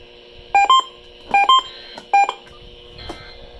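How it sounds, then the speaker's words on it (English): Emergency Alert System test tones on a KDKA Pittsburgh broadcast: three loud, evenly spaced bursts of harsh digital header tones over a quiet background hum, followed by a fainter blip. "The following is a test of the emergency alert system."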